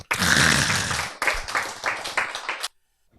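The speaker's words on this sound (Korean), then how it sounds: "박수." Audience clapping at a talk on the nature of God, starting loud and dense, then thinning into scattered, uneven bursts of hands before stopping abruptly, leaving near silence.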